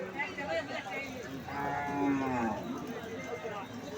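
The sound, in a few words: cow mooing at a cattle market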